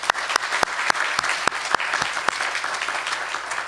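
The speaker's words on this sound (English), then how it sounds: "So if we could give them a round of applause," An audience at an awards evening applauds the event organizers: a steady wash of clapping with a few sharper, louder claps standing out, lasting the full few seconds with no talking.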